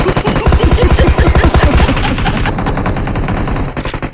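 Loud, rapid automatic gunfire from a shooting video game rattles in a continuous burst, then thins into scattered, softer shots toward the end.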